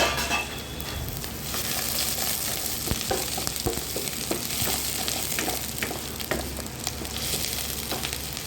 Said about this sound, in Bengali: আর তেলের ওপর ইনগ্রিডিয়েন্টস ভালো করে ভেজে নিতে হবে।